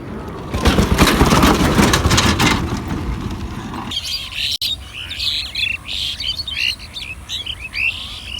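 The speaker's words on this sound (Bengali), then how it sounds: "গাছ দেখেন কি সুন্দর করে পাখি কিচিরমিচির করছে।" Birds chirp and call from trees beside rice fields at harvest time, a busy chorus of bright twittering that comes through clearer after about four seconds, once an earlier low rumbling noise falls away.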